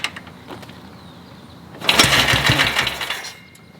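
A BSA Goldstar motorcycle engine, just back from major engine repair, catches and runs with a rapid, rough, close chatter for a couple of seconds after a quieter start, then fades.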